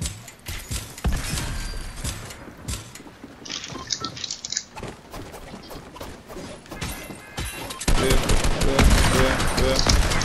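Rapid bursts of game gunfire from Fortnite crack out repeatedly, loud and close, mixing with mechanical clicks and reload sounds, growing denser toward the end while voices chatter over the action.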